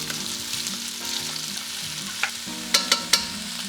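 Garlic and vegetables fry with a steady sizzle in a pan as they are tossed and coated, soft stirring scrapes followed by three sharp utensil taps on the pan's rim near the end, no voices.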